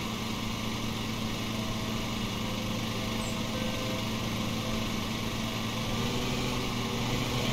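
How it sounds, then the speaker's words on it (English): A lawnmower engine in the video game Lawn Mowing Simulator drones steadily and loudly at a constant pitch throughout, with no break in the running hum. "Barely hear it over the lawnmower though"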